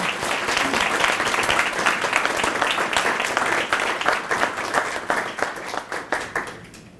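Warm applause from a conference audience at an opening ceremony as a speaker walks to the podium, dense steady clapping that thins into scattered individual claps near the end, with no voices.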